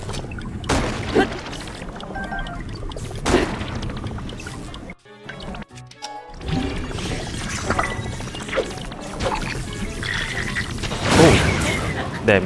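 Thunder strikes in Zelda: Tears of the Kingdom, with a loud crack near the end that stands out over a busy bed of in-game effects and clatter.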